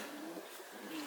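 Inside a racing pigeon loft, pigeons give a brief, soft, low coo set against steady background noise.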